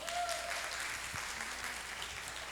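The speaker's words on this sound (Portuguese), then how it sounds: "Palmas para Daniel." Congregation applauding Daniel during a church service, a steady wash of clapping that runs the whole time at moderate volume, with a faint voice briefly audible beneath it.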